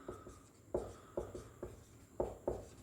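A pen writes on paper close up during a maths lesson, with soft repeated strokes and scratches in an irregular rhythm, quiet and alone.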